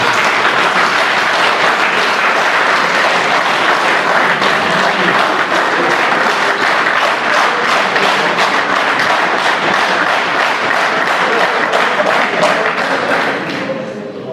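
A large audience at a speech in Abkhazia applauds steadily and loudly, a dense wash of clapping that holds unbroken for the whole stretch before starting to thin at the end.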